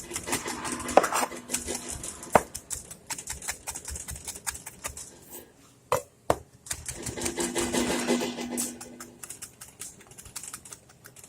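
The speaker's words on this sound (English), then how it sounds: "you just want to bring it together, chop it up down." Knife chopping tofu with rosemary against a board or pan, a fast run of sharp clicking taps in bursts with brief pauses, close and fairly loud, with no talking.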